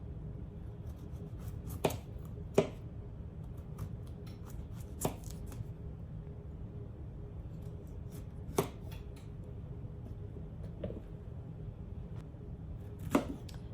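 A knife chops through tough, oversized garden squash on a board, with sharp crisp cuts at irregular intervals, several seconds apart, close and fairly quiet against a soft background hum.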